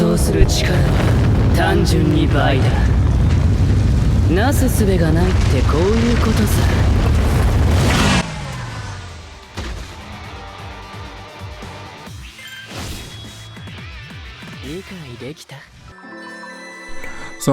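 Gremmy's soul bomb attack in the game Bleach Brave Souls, a dense run of booming explosions and bursts for about eight seconds, then quieter scattered game effects, with a voice talking over it.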